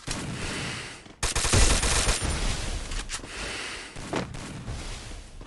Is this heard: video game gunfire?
yes